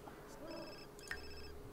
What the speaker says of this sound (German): Klingelt das Telefon?